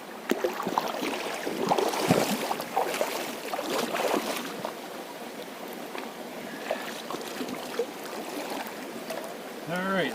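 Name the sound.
gold panning bedrock material in water with MineLab Pro Gold pan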